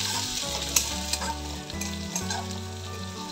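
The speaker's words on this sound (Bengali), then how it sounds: "এবার ছোট্ট একটু আদা আর একটু কাঁচা পাকা লঙ্কা নিয়েছি, সেটা একটু ছিঁচে নিয়েছি নোড়া দিয়ে তেলের ওপর দিয়ে দিলাম" Crushed ginger and green chilli hitting hot oil in a pan, giving a strong, dense sizzle that holds steady throughout, with a few sharp spatters and clicks up close and a low droning hum underneath.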